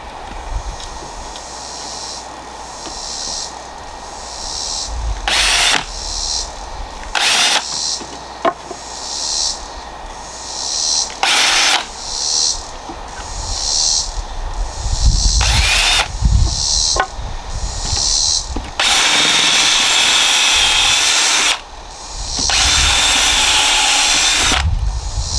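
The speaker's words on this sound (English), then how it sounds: "Minimize splitting whenever you're putting the screws in." A power drill drives screws into wood in a series of loud, close whirring bursts of varying length, the later ones long and sustained, separated by quieter pauses with faint handling noise.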